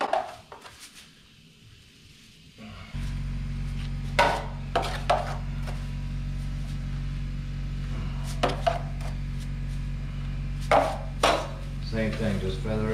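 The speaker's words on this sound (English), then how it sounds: "I'll keep my knife inside that mud and I'm feather edging everything in the middle so we don't leave an edge" A drywall knife scrapes joint compound over a wall crack while feather-edging, producing several sharp, close scraping strokes at irregular intervals over a steady low background hum.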